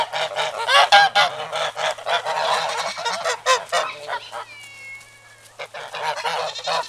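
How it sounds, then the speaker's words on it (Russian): Several geese honking loudly and repeatedly nearby, overlapping calls in a noisy cluster, with one drawn-out squawk. "Гуси, гуси, га-га-га."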